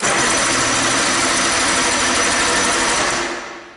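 An outboard engine cranks over steadily during a spark check on cylinder number 2, giving a loud, continuous mechanical whir that tapers off near the end.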